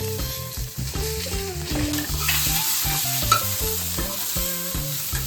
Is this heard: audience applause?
no